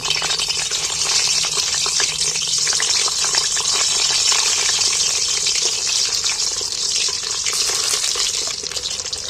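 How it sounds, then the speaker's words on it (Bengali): Eggs fry in hot oil in a pan with a loud, steady hiss and crackle that runs unbroken from start to finish, with no voices. "তাই এবার আমি ডিমগুলো তেলের মধ্যে তুলে দিচ্ছি"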